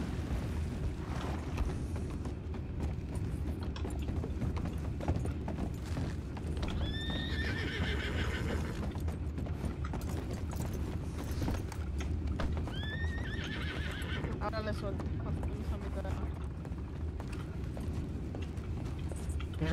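In the RedM western game, a horse neighs twice with shrill whinnies over steady clip-clopping hooves, set against a constant low background rumble.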